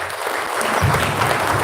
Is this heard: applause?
yes